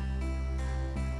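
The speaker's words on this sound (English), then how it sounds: "Hear that harpsichord?" Harpsichord voice playing a repeating keyboard accompaniment pattern, sustained chords changing every few tenths of a second, steady and moderately loud with no talking.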